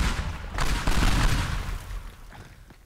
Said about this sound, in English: Let's just throw another bomb over there.